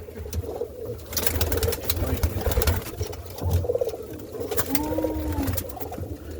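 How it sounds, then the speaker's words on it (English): Roller pigeons coo in a loft, soft throaty calls rising near and far amid fluttering wings and scratchy movement, with a voice murmuring briefly in the background. "Man, I got some beautiful looking birds in here."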